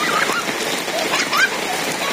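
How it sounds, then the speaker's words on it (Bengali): Sudden rain pours down in a village, making a steady, dense hiss of falling drops throughout, with faint higher chirps over it. "হঠাৎ করে একবারে বৃষ্টি নেমে পড়ছে"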